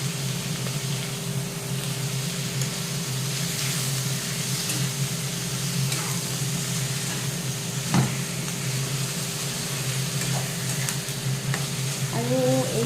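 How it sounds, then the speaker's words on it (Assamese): Chicken curry with ginger and garlic stir-fries in a pan, a steady sizzle running throughout with occasional scrapes and clinks of the stirring utensil, close and moderately loud. "আৰু এইখিনি মই কিছু সময়কৈ লৰাই ভাজি থাকিম।"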